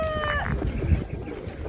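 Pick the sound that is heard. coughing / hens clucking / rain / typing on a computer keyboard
hens clucking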